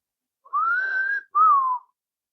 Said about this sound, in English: I whistled, yes.